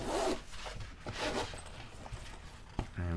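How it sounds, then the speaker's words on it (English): A small zipper slides open on a leatherette case for a Laco 1925 pilot watch, a few quick close rasping pulls ending in a short tug, with a brief burst of voice near the end. "And we've got ourselves a little zipper."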